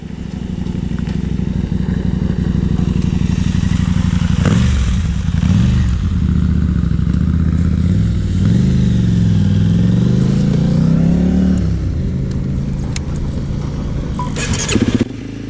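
Honda CRF 300 Rally motorcycle being ridden, a loud, steady single-cylinder engine drone heard up close for the whole stretch, its pitch rising and falling as the rider shifts and accelerates, with wind and clatter mixed in.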